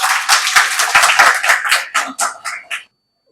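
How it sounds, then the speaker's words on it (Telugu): A seated audience at a Vedic knowledge forum lecture claps in a dense burst of applause that thins into scattered, separate claps and stops after about three seconds. "ఇంకొకసారి చప్పట్లు కొట్టచ్చు"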